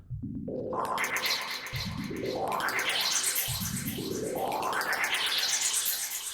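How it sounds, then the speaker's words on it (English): Metallic spring-like whooshing swells repeat in three long sweeping waves, a spring smacking against a tube body, washing upward with a springy, percussive rattle, loud and continuous. "the spring smacking against the body of it, that just creates almost like a percussion in there"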